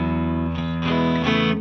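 A PRS CE 24 semi-hollow electric guitar plays through a heavily distorted, high-gain amp. Loud sustained chords ring with rich harmonics, with a few fresh attacks and shifts across the short phrase.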